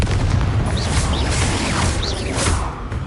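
Confringo explosion spell cast in a Harry Potter video game on PS4, loud booming blasts with whooshing swishes and rumbling low end, several bursts running together throughout.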